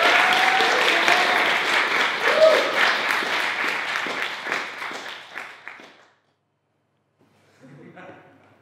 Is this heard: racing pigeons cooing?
no